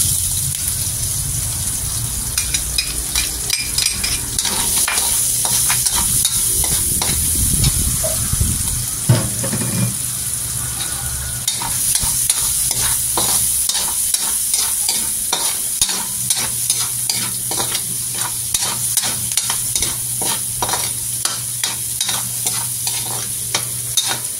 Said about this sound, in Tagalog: Ligay ko na yung sibuyas and bawang.